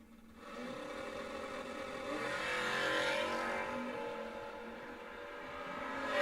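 A 1974 Dodge Dart and a small-block Chevrolet drag racing car at a dragstrip, their engines roaring and revving, the sound rising and then easing as they pass at a moderate distance, with no voices.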